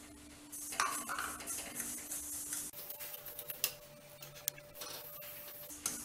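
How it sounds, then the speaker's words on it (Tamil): Semolina (rava) dry-roasting in a pan for sweet rava appam, with scraping, clinking and light ticking stirring sounds, a steady faint hum underneath, and no voices. "இப்போ ரவையை ட்ரை ரோஸ்ட் பண்ணிக்குவோம்."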